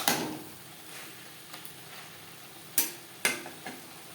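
Snake gourd frying dry in a pan is being stirred, giving a soft steady sizzle broken by a few sharp scraping knocks of the spatula toward the end.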